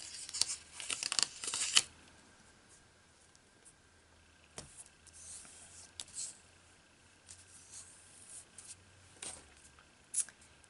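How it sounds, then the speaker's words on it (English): Tape tearing while taping paper bookmark pieces together at a craft table: a short burst of ripping near the start, then quiet with a few faint, brief handling rustles. "I'm just going to put some tape on this piece so that we can adhere it together."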